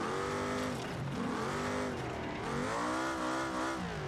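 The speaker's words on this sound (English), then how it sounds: "Alright, so we got a stock trophy truck. And that is loud." A stock trophy truck in the BeamNG Drive driving game roars with a loud, sustained engine note that rises and falls as the revs swing up and down, alone with no talk.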